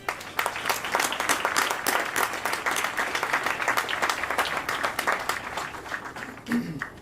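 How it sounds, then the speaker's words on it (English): Crowd at an outdoor ribbon-cutting ceremony for a new highway corridor clapping for the engineers and contractors, a sustained round of moderately loud applause from many people that fades at the end. "deserve a round of applause as well"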